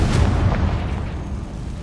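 A Confringo blasting spell explodes in the video game Hogwarts Legacy, a loud, dense rumbling boom that fills the whole clip with low-heavy blast energy and no speech.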